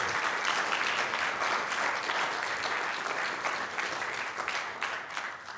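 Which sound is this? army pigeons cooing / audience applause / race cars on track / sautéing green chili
audience applause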